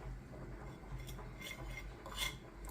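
A spoon mixes ingredients in a bowl, giving a few quiet scraping and clinking strokes against the bowl, faint and close, with no talk.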